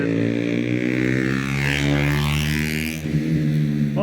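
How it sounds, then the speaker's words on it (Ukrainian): Motorcycle engines pass close by along a quiet lagoon in Sestri Levante, Italy, a loud, buzzing whine that rises and shifts in pitch before another engine revs in near the end. "Ці мотоцикли, як вони мене дістають."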